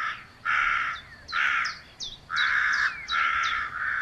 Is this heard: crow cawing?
yes